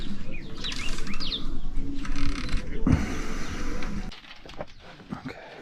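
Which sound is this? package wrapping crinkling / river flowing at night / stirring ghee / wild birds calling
wild birds calling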